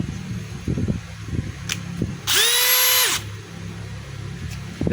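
A DeWalt DCD805 18V cordless hammer drill in drill mode spins up for about a second, a loud high motor whine that rises and cuts off, framed by quieter handling clicks and background noise.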